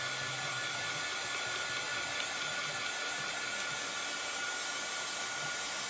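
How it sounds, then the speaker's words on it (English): Heat gun blowing steadily to dry DecoFoil adhesive on paper, a constant close whooshing hiss of hot air running unbroken with no speech. "This is a heat gun."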